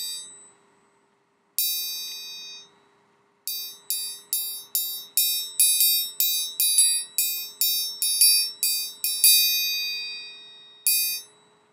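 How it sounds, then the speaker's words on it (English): Orchestral triangle struck with a beater and muffled by fingers, a few isolated rings, then a run of short clipped dings in a quick rhythm, bright and close with quick damped decays and no talk. "that allows my bottom three fingers to muffle the triangle and control the sound that way. And so here's some examples of some muffling."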